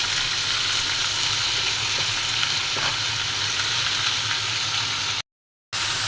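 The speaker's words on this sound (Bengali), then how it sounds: "পেঁয়াজটা রসুনটা ভেজে নিলাম, এখন পুঁইশাকটা দিয়ে দিচ্ছি।" Malabar spinach dropped into garlic and onion frying in a pan gives a steady, close sizzle that runs unbroken and loud before cutting out briefly near the end.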